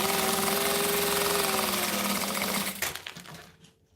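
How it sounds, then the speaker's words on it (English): A sewing machine top stitches fabric with a steady, loud mechanical buzz that runs continuously for nearly three seconds, then slows and stops, leaving near silence. "we're going to top stitch this shut"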